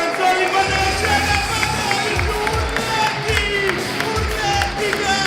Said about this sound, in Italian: L'applauso per il prossimo comico Niccolò Commento.